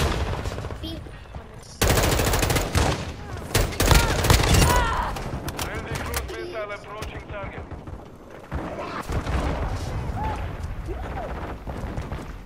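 Video game gunfire crackles in dense automatic bursts, loud and close, with short pauses between volleys and explosive impacts mixed in, while a player talks over the action.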